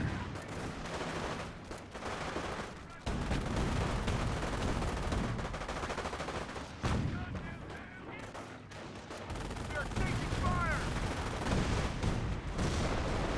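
Sustained rifle fire from a G43 squad in the Company of Heroes strategy game, steady rattling volleys and bursts over constant battle noise, mid-distance and continuous, with a commentator talking over it.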